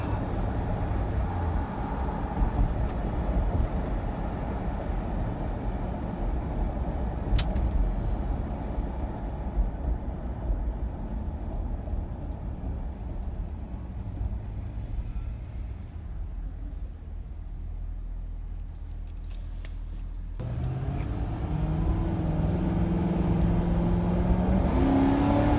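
Ford Crown Victoria Police Interceptor cruising at night, steady engine and road rumble from inside the car throughout, easing slightly mid-drive before revving up again near the end with a rising engine note.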